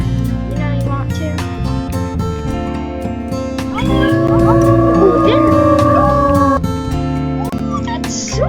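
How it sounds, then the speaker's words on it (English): Many wolves howl together in the video game Wolf Quest 3, long overlapping rising and falling cries over a music bed. The chorus swells louder partway through, with a person talking softly now and then. "There's so many of them that are howling."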